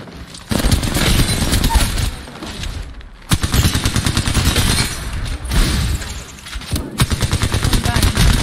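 Rapid automatic weapon fire in Apex Legends plays out in loud, dense bursts with short pauses between them, close and punchy, and the shots crowd the whole stretch.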